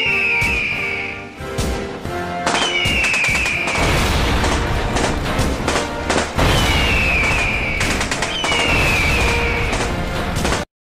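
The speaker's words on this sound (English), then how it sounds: "but there's actually a gunshot." Gunfire in a film scene comes as loud, dense bursts and booms that run almost the whole way through, mixed with whistling tones and heavy layered sound.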